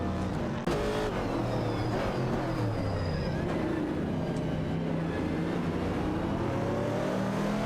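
Race cars in a racing video game roar with a steady, continuous engine drone, several cars blending into one sustained high-revving wash with no pauses.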